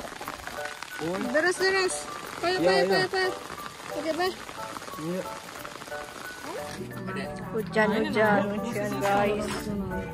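Steady rain hisses in the background while people talk over it, the patter continuing throughout, in Pagar Alam, Indonesia.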